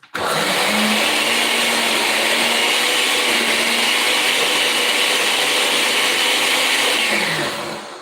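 A blender whirring hummus, starting abruptly and running as a loud, steady high-pitched motor roar for several seconds before winding down at the end, with no talking.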